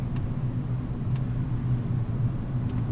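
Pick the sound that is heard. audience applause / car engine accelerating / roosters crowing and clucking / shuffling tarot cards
car engine accelerating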